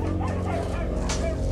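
A dog barks and yips in the 1982 film The Thing, a short, close burst of yelps and whimpering bow-wows over a low rumbling film soundtrack.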